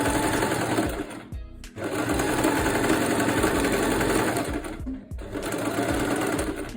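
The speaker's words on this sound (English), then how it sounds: "Now we're just going to sew on this line." A sewing machine stitching a straight line on fabric, a loud, steady rapid whir near at hand, stopping briefly twice before resuming at full speed.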